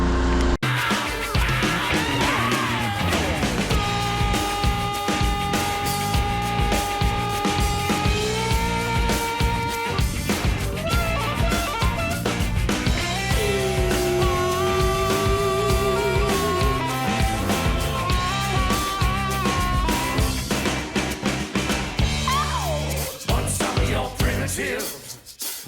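A pressure washer fitted with a turbo nozzle blasts concrete, turned down to about 4 gallons a minute, giving a loud unbroken roar with steady whining engine tones throughout.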